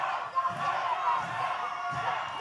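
Wrestling crowd at an OVW TV event chanting and cheering as a steady, moderately loud roar from the arena, with rhythmic chant swells rising and falling throughout.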